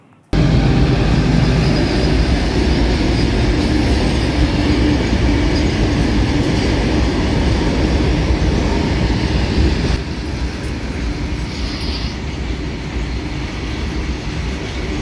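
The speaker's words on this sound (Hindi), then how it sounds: "खैर यहाँ पर ट्रेन भी निकल चुकी थी" A train passes a closed railway level crossing, a loud, continuous close-up rumble and rattle of wheels and cars that drops slightly partway through, with no talking.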